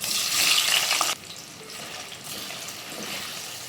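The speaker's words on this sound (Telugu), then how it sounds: "ఆయిల్ వేడైంది. ఇప్పుడు పన్నీర్ వేపుకుందాం." Paneer drops into hot oil with a loud, bright sizzle that cuts back suddenly after about a second, then continues as a softer, steady frying hiss.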